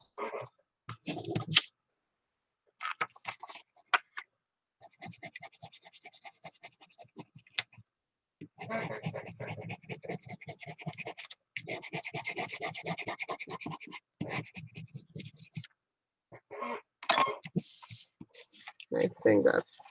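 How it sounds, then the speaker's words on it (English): A hand smoothing paper flat for a handmade card, giving repeated close dry rubbing and scratching strokes in bursts with short pauses between. "Then I'm just going to smooth that right over so that I don't get any bumps or creases on my paper."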